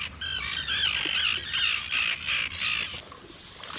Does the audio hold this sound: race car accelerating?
no